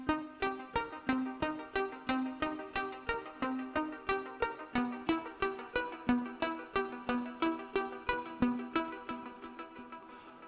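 A progressive pluck from a polytone synth in Reason plays an arpeggio that follows the chord changes, with short bright notes repeating in a steady, even rhythm at moderate volume.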